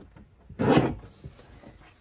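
A paper trimmer blade slices through a 3 by 12 inch paper strip in one short, close rasping stroke lasting about half a second, with quiet room tone before and after.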